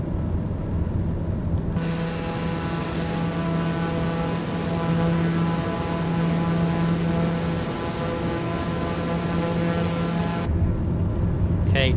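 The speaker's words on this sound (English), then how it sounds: "Let's take off and head for a very challenging airport or airfield." A light aircraft's engine drones loud and continuous at takeoff power in a flight simulator game as it rolls down the runway, with a steady hum and no voices.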